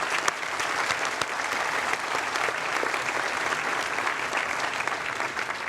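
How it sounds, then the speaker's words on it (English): Sustained applause from a crowd at Harvard University's commencement afternoon exercises, a steady dense clatter of clapping hands that continues throughout without letting up. "Let's give him another round of applause."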